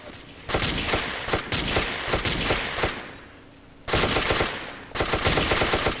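Rapid automatic gunfire from the video game Ace of Spades rattles in loud sustained bursts, with one short pause and then two more dense volleys close up.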